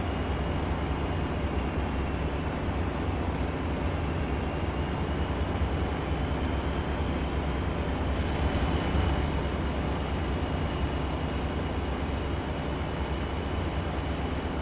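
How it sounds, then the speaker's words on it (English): A truck engine from a trucking video game drones in a steady low rumble, an even, continuous hum with no talk, holding at a constant level. "I did ask if the engine noise was too loud"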